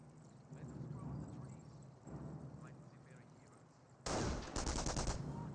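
Gunfire in Company of Heroes 1, a WWII real-time strategy battle, rattles as steady background crackle under game noise, then jumps louder near the end with a harsh burst of rapid shots.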